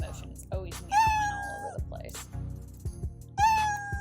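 A Scratch program's cartoon cat meow plays twice, clear and close, with soft clicks, light tapping and faint background sounds between the meows.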